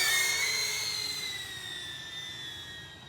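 A DJI Avata FPV drone's motors spin at a high, whining pitch that slowly falls as it idles close by, steady and alone with no talk.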